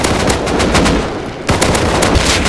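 Automatic gunfire in the Rust survival game, rapid bursts that run almost continuously, loud and close, with a brief lull before the firing resumes.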